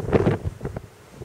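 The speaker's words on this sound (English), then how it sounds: "It's seriously windy." Strong gusting wind buffets the microphone at the summit of High Raise in the Central Fells, a loud roaring rush that swells and drops in the first half before easing to a steady background blow.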